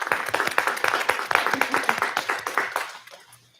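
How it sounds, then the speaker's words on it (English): A room of attendees at a school district board of education meeting claps in sharp, rapid overlapping hand strikes that thin out and fade to quiet at the end. "can we give them a round of applause?"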